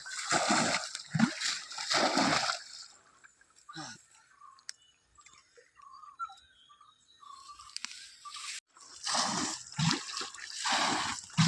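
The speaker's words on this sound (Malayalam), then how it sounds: "വെള്ളം കോരി പറ്റിക്കുന്നതാണ്." Water is bailed by hand from a small pond beside a paddy field, heard as bursts of sloshing scoops and splashes, first in a cluster and then again after a quieter stretch, close by with no talking.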